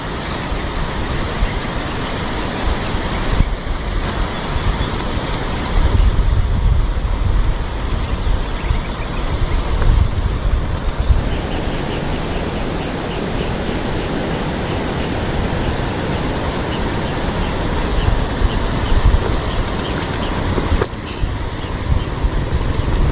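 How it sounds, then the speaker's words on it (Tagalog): Strong wind at sea during a fishing trip, roaring and rushing as a dense broadband noise with repeated louder gusts and buffeting throughout the long stretch. "Lakas ang hangin."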